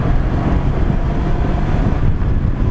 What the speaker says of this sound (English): I wonder if that's intake noise I'm hearing